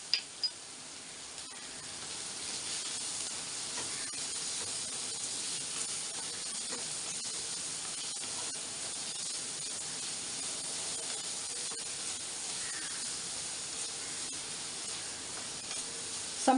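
Onion sautéing in a kadai, a steady soft hiss and sizzle held close and even for the whole stretch, with a couple of sharp taps at the start and no talking.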